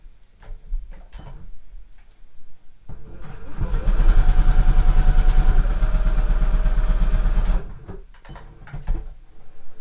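A sewing machine stitches basted tote bag handles in a loud rapid run of several seconds, with quieter clicks and handling noises before and after.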